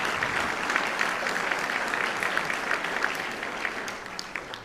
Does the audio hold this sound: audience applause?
yes